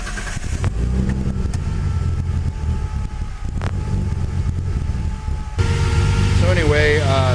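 Nissan RB26 engine fitted with Kelford 272 cams idling in a 300ZX Z32, a steady rumbling idle close by, with a brief shift in tone near the end and faint voice at the end.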